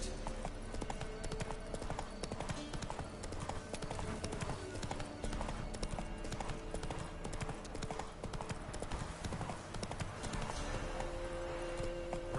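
Roach, a horse in The Witcher 3 video game, with steady clip-clopping hooves running under a dense bed of music and game sound, loud and continuous throughout.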